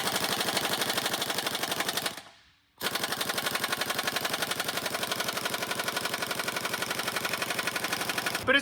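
A pneumatic rattle gun hammers in loud, rapid, continuous bursts while working on a car exhaust, stopping once briefly before resuming its steady chattering.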